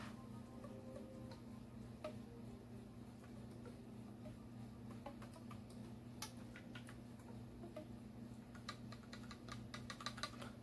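A Buffet Crampon R13 Bb clarinet has its keys pressed, giving soft, scattered key clicks that come close together and gather toward the end, over a low steady hum.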